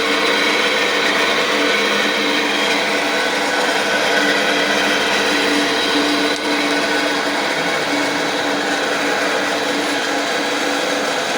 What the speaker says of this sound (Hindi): मशीन को अभी ऑन कर रहे हैं।